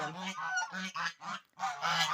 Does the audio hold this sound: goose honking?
yes